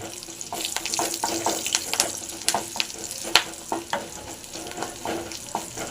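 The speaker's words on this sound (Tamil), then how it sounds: "எண்ணெய் காஞ்சிருச்சு அப்படியே போட்டுலங்க அப்படியே சூப்பராக ஃப்ரை பண்ணி" Dried bitter gourd vathal deep-frying in hot oil gives a steady crackling sizzle with sharp pops and bursts scattered through, close and fairly loud, with faint clinks of stirring and no voices.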